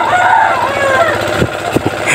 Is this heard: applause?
no